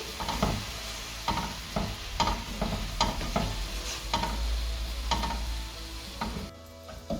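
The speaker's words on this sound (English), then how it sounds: "we'll be adding the reduced milk to the coconut. And mix it nicely." Reduced milk being stirred into grated coconut in a pan over a low gas flame, a steady run of scraping, stirring strokes with a light sizzle, close and clear with no talking.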